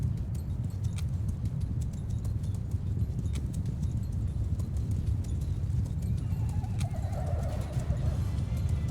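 Cavalry horses gallop in a medieval battle in Mount & Blade II Bannerlord, a dense, continuous rumble of many hooves with occasional neighs and faint clinks over the drumming mass.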